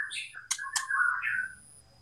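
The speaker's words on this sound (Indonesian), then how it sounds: "yang ada di depan kita ini adalah murai batu betina" Short, bright chirps and a warbling call from a female white-rumped shama, a few quick notes then a sustained twittering phrase, fairly close and alone.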